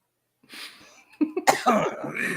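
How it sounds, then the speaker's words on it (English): A short burst of coughing, a few rough harsh coughs in quick succession after a faint breathy start, fairly close and clear. "everyone is coughing"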